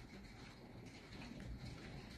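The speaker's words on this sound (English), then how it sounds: "And I love this pouring rain." Pouring rain during a thunderstorm makes a steady, fairly faint broadband hiss that continues without a break, with no distinct thunder claps standing out.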